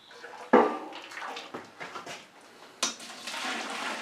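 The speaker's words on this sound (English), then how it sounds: "it dropped to 167, so I wanted to add a little bit more boiling water in" Boiling water is poured into a rye whiskey mash in uneven bursts, sharp splashes followed by gurgling, sloshing liquid, close and fairly loud with no talking.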